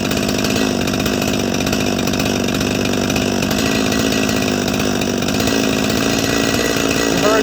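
Holzfforma G255 chainsaw engine revving steadily while its carburetor is tuned, a loud continuous buzzing drone that holds its pitch throughout and climbs slightly near the end.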